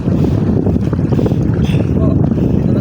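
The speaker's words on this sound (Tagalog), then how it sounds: "Mahangin." Strong wind blowing by the sea, a steady loud rush and buffeting against the microphone, with low roaring gusts throughout and no clear voices.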